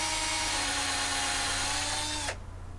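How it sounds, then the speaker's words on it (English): A power drill bores a pilot hole into lubricated steel, whining steadily with a constant tonal pitch before stopping abruptly near the end. "and drilling my pilot hole."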